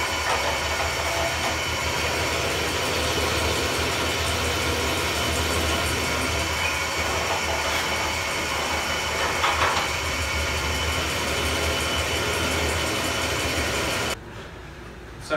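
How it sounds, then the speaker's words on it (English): A drill press whirs and grinds steadily through wood for a long stretch, a continuous mechanical rasp that cuts off abruptly near the end. "I'll go back to the drill press and just kind of hog out most of the material"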